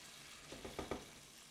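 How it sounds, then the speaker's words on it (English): Jambalaya rice being stirred in a pot with water and seasonings: a low, steady simmering hiss with a few soft spoon scrapes and sloshes in the middle, faint and close. "Give it a stir."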